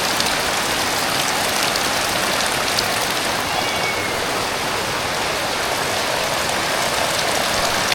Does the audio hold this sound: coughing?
no